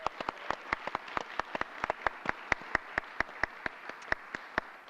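Sparse, distinct handclaps from an audience after a speech at a school's 30th anniversary opening ceremony, a few dozen separate claps spread steadily across the moment, moderately loud and close, no talking.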